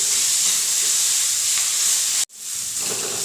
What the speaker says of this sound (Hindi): अब हम इन सभी चीज़ों को अच्छी तरीके से भूनकर रेडी कर लेंगे।